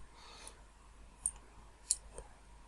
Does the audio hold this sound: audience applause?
no